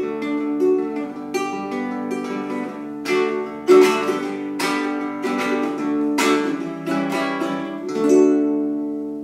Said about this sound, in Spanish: Este es un ukelele barítono de 30 pulgadas.